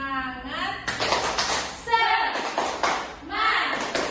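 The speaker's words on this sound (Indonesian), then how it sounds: "Kita tepuk semangat dulu ya." Children in a classroom lesson do a rhythmic clapping chant, sharp bursts of hand claps close by, mixed with a teacher and kids speaking between and over the claps.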